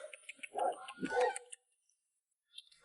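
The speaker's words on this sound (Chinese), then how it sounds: "鹅叫，狗叫" A dog gives two short barks close by in a rural village, with a faint high bird-like call near the end and no talking.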